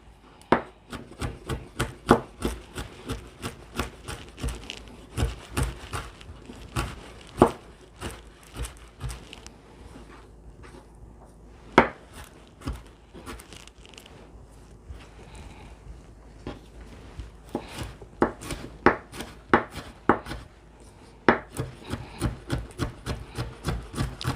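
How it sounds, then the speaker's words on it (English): A knife chops vegetables on a cutting board for a quail stuffing. The chops are close, crisp and rapid, coming in irregular bursts with short pauses and no talking. "I'm going to chop all this up"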